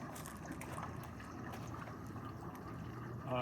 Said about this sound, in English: that's an awful lot of bubbles.